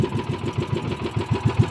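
A small engine idles with a steady, pulsing rhythm, running smoothly at low speed but known to misfire when revved high; the beat is close and fairly loud with no talk over it.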